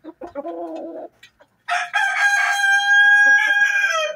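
A rooster of the Dekal Brown chicken breed crows loudly and near, a long drawn-out call following brief softer clucking and bird sounds.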